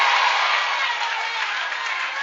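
A church congregation clapping their hands together, a steady, even wash of applause that stays fairly loud throughout with no voices heard.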